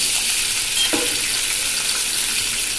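Cut green turkey berries for a chutney fry in hot oil, giving a steady broadband sizzle with a brief scrape near the start, close and fairly loud throughout.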